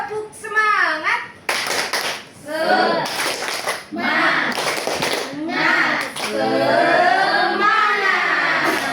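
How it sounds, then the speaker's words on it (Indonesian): Schoolchildren in a classroom clap a rhythmic 'tepuk semangat' chant, quick bursts of hand claps mixed with lively chanting young voices, close and loud with brief pauses between phrases. "Ya, tepuk semangat."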